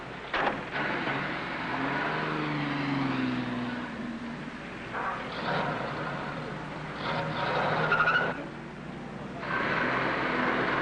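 A car backs into a parking stall, its engine humming and rising in uneven bursts with shifting revs close by, while people talk over it.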